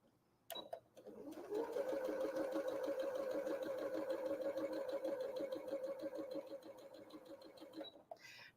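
A sewing machine runs steadily while chain piecing quilt fabric for a Peony Star block, a continuous close mechanical whir lasting several seconds after a brief start, with no talking.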